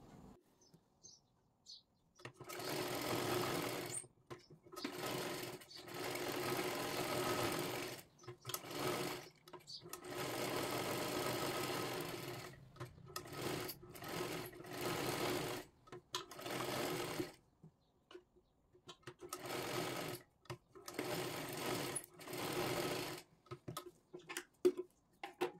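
A sewing machine stitches a size 38 princess blouse in repeated bursts of fast, rattling whirring separated by brief pauses, close and fairly loud, over about twenty-five seconds.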